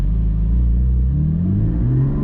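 Porsche Cayman GT4 PDK engine revving hard on throttle, a loud close rumbling growl rising steadily in pitch over about two seconds with no talking.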